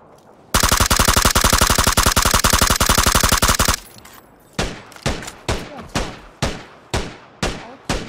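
PUBG battle-royale gunfire: a loud, sustained automatic burst lasts about three seconds, then a series of evenly spaced single shots follows with ringing tails.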